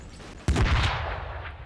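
A video game helicopter explodes in a sudden loud blast that rumbles on with crackling debris, fading slowly over about a second.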